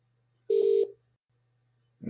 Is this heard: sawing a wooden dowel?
no